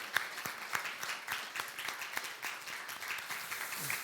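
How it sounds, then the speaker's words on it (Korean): A church congregation claps for four deacons wearing new robes at an Easter service. The applause is modest and fairly quiet, with individual hand claps standing out in an uneven rhythm over faint background voices. "오늘일랑 우리 집사님 4분 박수 한번 보내주십시오"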